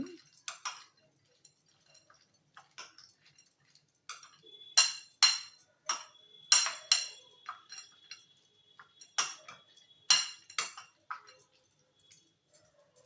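A spoon clinks and scrapes against a bowl in irregular bursts as masala is mixed with half a lemon's juice for a peanut masala, close and fairly faint, with no talking.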